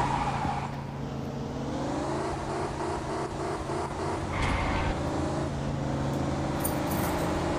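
Racing car engine from a video game played on an iPad, a steady droning whir with shifting pitch as the car accelerates, continuous and fairly close throughout.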